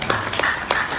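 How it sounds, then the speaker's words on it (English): Scattered clapping from a lecture audience, a few brief bursts of hands under a steady background hum, fairly faint and short. "Give a round of applause for that"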